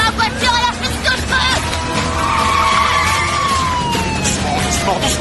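A car skids under hard braking, tyre squeal sweeping through a loud, busy mix with a police siren wailing and voices talking over it, continuous for about five seconds.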